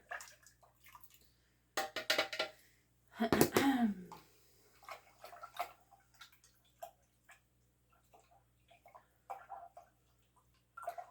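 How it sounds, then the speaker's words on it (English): An aquarium filter sponge is rinsed and squeezed in a container of water during a tank water change, giving intermittent splashing and dripping bursts at close range with quiet gaps between them. "rinse it in the water and rinse until water runs clear"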